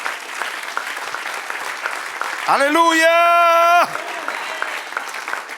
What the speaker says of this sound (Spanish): Denle otro aplauso, que Él se lo merece.